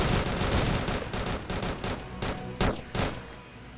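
Desert Eagle pistol fired repeatedly in the Red Alliance first-person shooter, a run of sharp cracking shots at irregular intervals, several in quick succession, loud and close with no talking.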